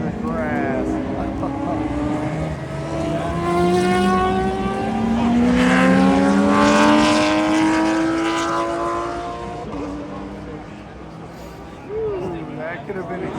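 A Ferrari prototype race car runs across the grass during qualifying at Daytona, its loud engine wailing and shifting pitch over about thirteen seconds under continuous talking.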